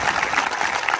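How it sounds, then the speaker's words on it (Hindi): Applause from a crowd at a dance performance by soldiers at a physical training academy in Indore. Dense, steady clapping continues loud and unbroken throughout. "एक बार इन चारों भाई के लिए बहुत दिल से ताली"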